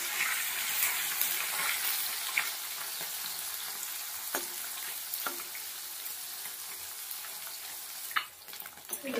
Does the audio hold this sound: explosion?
no